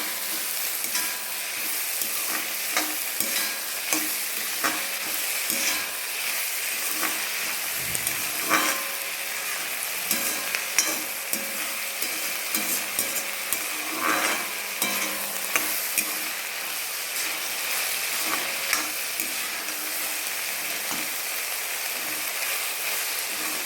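Onions sizzle and fry steadily in a pan for a country chicken curry with a pinch of salt added, a continuous crackling hiss broken by occasional scrapes of stirring, close and fairly loud, with no voices.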